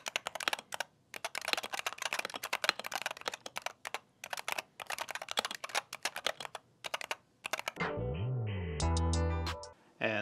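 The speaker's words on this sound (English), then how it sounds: "This is stock Wooting 60E keyboard." Typing on a stock Wooting 60HE keyboard: rapid, crisp, close keystrokes in irregular bursts with brief pauses, followed at the end by a short stretch of loud tonal music.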